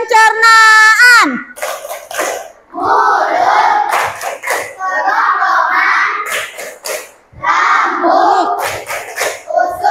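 Children clapping along in a rhythmic classroom chant about digestive organs, bursts of claps alternating with chanted words from the group and a teacher's voice.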